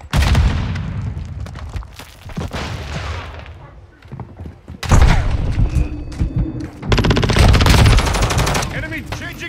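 Call of Duty Modern Warfare 2 (2022) gunfire during a Kill Confirmed match on the Taraq map: loud, dense automatic fire and heavy booms, rattling bursts and thuds with brief lulls, under shouted game voice callouts.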